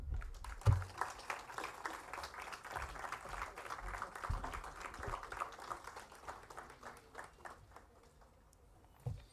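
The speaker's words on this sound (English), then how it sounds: "Round of applause." An audience at an AI conference at IIT Bombay gives a round of applause, a steady patter of many hands that swells and then fades out toward the end, with some voices underneath.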